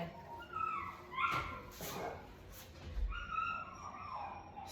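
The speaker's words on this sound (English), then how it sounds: "I do apologize for the puppy barking." A puppy yips and whines excitedly in a room during obedience training with another dog present, faint high cries over a steady background hum.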